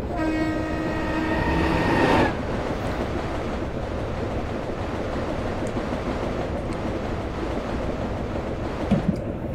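A passenger train passes in a railway simulator game. A sustained horn blast opens, then a steady loud rumble and rail clatter carry on without talk.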